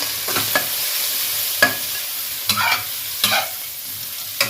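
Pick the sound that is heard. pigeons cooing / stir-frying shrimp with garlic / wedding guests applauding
stir-frying shrimp with garlic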